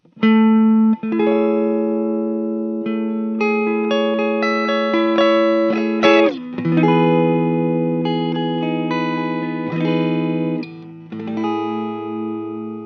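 A 2019 Gibson Les Paul Special Tribute Doublecut electric guitar on the neck pickup, controls full up, plays sustained chords and single notes with a warm, rounded tone, ringing clearly with slight effects and no talking.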